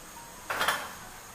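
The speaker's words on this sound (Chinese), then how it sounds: "油放好以后在四周的给它滑动一下锅，让锅的每一寸肌肤都沾上食用油" Wok swirled over a stove with rapeseed oil, a brief quiet metallic scrape and clatter lasting about a quarter second amid low room hush.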